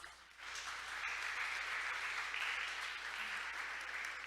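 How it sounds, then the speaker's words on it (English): Sustained audience applause for a panel of experts and moderator at a conference session, steady dense clapping from a crowd lasting several seconds with no talk over it. "Let's give our panel of experts and moderator a big, big round of applause."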